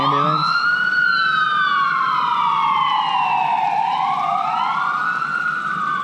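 An ambulance siren wails loudly at night near an abandoned amusement park at Lake Shawnee, a sweeping up-and-down tone that rises and falls in long arcs, close and continuous.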